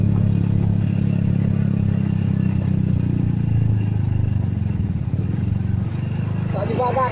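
A Honda Pop 110 motorcycle rides slowly through water, its small engine giving a steady, close, low putter throughout while someone talks over it.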